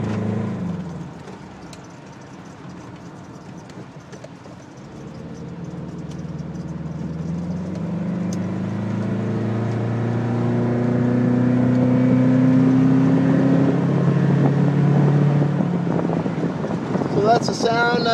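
Engine of a Subaru camper van conversion running while driving down a quiet back street, rising and falling in pitch as it accelerates through gears, steady and fairly close under wind noise, with a brief clatter at the very end.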